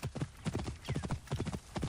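Horse hooves clip-clop steadily in Assassin's Creed Origins, a quick regular trotting rhythm on hard ground, close and continuous throughout.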